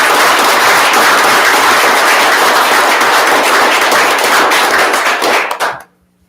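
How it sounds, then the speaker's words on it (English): A room full of people at a school board of education meeting claps loudly for several seconds, a dense burst of overlapping hand claps that fades out abruptly near the end. "So let's give them a round of applause."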